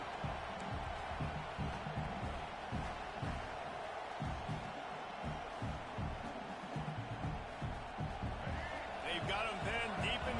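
A stadium crowd at a college football game roars in a steady, dense wash of cheering and noise, loud and continuous throughout with no break.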